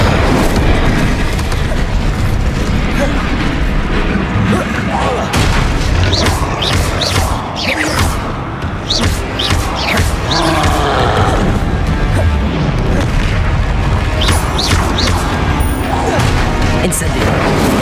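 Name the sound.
Incendio fire spell blasts in video game Hogwarts Legacy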